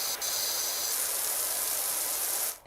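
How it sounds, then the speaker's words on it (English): A steady, close pressure-washer spray hisses continuously in PowerWash Simulator, then cuts off abruptly near the end. "I found the endless spray mode"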